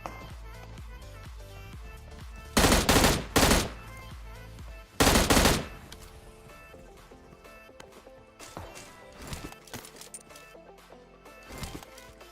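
Gunfire in a PUBG match on the Rozhok map: two loud bursts of rapid automatic fire close by, followed by scattered quieter shots and game ambience.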